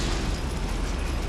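A Confringo fire spell blast in Hogwarts Legacy, a brief loud roaring burst of broadband noise with no gaps.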